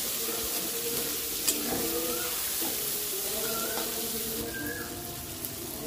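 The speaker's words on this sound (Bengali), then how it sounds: "পেঁয়াজটা দিয়ে ভালো করে নেড়ে চেড়ে দেব।" Chopped onions and green chilli frying in a pan, giving a continuous close sizzle with occasional stirring scrapes, with a faint hum running steadily underneath.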